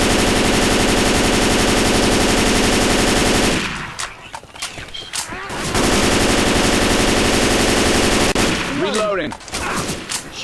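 M16 rifle fire in Left 4 Dead 2 rattles in long, rapid automatic bursts, loud and close, with a brief pause midway and a quieter stretch where a voice speaks briefly near the end.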